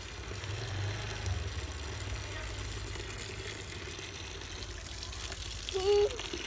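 Tap water runs steadily into a basin used for washing vegetables, a soft continuous rushing with a low background hum and a brief louder splash near the end.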